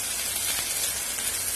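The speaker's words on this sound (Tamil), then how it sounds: "இது எல்லாத்தையும் ஜஸ்ட் ஒரு நிமிஷம் அப்படியே வதக்கிக்கலாம் ஹை ஃபிளேம்ல." Chickpeas and bell pepper sautéing in a pan over a high flame give a steady, close, broadband sizzle with no voices, holding an even level throughout.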